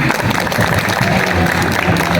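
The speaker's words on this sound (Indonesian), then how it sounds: "Tepuk tangan." Applause from an audience at a pesantren pageant grand final show, brief dense clapping with crowd noise, loud and close throughout.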